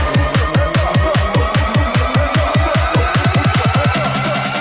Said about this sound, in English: We are going to be remaking this part of the drop.